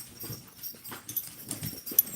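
A small dog makes soft, brief whimpering and sniffing sounds close by in a series of short bursts, with light rustling and a few sharper clicks mixed in.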